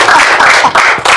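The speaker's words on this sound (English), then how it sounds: "Please, let's clap for him again" Audience applause fills the room, dense steady clapping with brief dips, loud and close for about a second.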